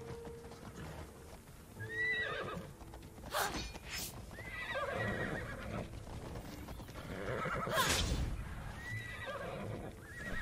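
Several horses neigh and whinny in the game Immortals Fenyx Rising, with repeated loud calls and hoof clip-clop over steady outdoor ambience and no talking.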